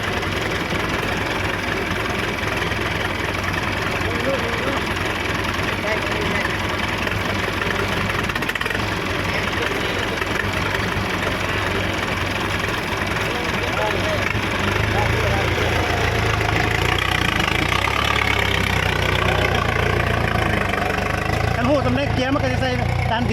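A vehicle engine idles steadily and loudly nearby while its gears are being tested, a continuous rumble that swells slightly near the end, with people talking over it.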